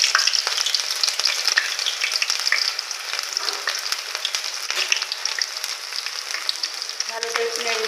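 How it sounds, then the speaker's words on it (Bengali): Chopped garlic sizzles loudly in hot oil as a tempering for coriander leaf chutney, a dense, continuous crackle close by with a faint voice near the end. "তেল গরম হয়ে গেছে। ফোড়ন হিসাবে আমি এখন দিয়ে দেব রসুন কুচি।"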